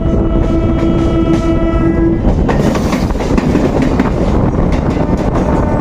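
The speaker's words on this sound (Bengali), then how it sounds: "ওই সাইড থেকে একটা মেমো ট্রেন আসছে দেখো" A MEMU train rumbles loudly and steadily past beside a hill in Purulia, its horn sounding a long tone at the start over a continuous rolling clatter of wheels on track.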